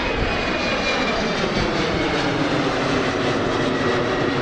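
Airliner taking off at Amsterdam Schiphol Airport, with a loud, continuous broadband jet roar that holds steady throughout, heard close with no voices.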